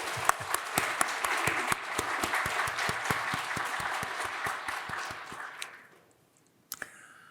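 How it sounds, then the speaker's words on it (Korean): Church congregation at a Sunday worship service applauding their pastor: dense clapping with sharp individual claps standing out, dying away after about six seconds, followed by a brief silence and a few scattered final claps. "사랑의 박수 한번 할까요?"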